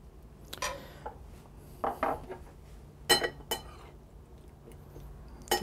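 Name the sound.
stirring pasta fagioli soup in a bowl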